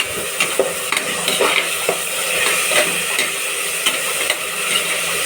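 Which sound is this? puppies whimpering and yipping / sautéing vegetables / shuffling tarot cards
sautéing vegetables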